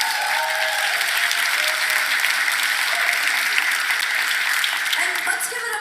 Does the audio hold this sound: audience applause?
yes